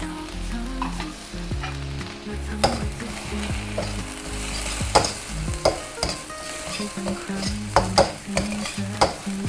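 Sliced fingerroot, red spur chillies, young green peppercorns and torn kaffir lime leaves stir-fried over high heat, with a loud close sizzle, rhythmic spatula scrapes and sharp clanks against the wok, and a low steady burner rumble underneath.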